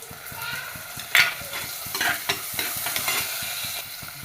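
Chillies, finely chopped onion and garlic fry in oil for a chayote dish, a continuous close sizzle overlaid with rhythmic spatula scrapes and stirring knocks against the pan.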